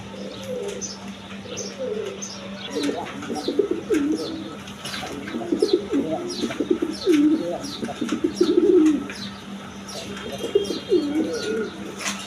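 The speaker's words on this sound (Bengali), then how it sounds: "দেখেন একদম বিগ সাইজের কবুতর।" Large pigeons at a pigeon farm coo repeatedly in close, rolling calls, layered over many faint chirps from other birds and a steady background hum.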